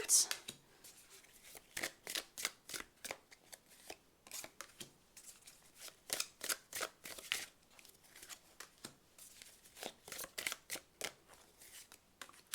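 Tarot cards are shuffled and drawn by hand. The result is a rapid run of crisp, papery riffling and slapping bursts in an irregular rhythm, close and fairly loud.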